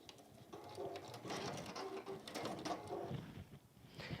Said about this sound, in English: So I'm just going to sew 1/4 of an inch down there.